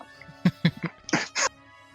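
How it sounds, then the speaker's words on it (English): A person gives a series of coughs and throat-clearing sounds, several short close bursts followed by two longer, harsher ones, then quiet. "Grim, I'll need you to turn and cough."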